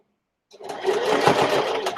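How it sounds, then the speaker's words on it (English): A sewing machine stitching straight along the top edge of a fabric box pouch starts after a half-second of silence, then runs as a loud, close, steady mechanical whir. "I'm going to sew right along the edge of that top piece"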